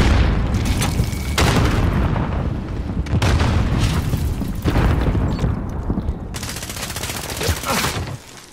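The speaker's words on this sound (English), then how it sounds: "Grenade out!" A grenade blast in the Warzone shooter game, heavy booming explosions mixed with dense rapid gunfire, loud and continuous for several seconds before tailing off.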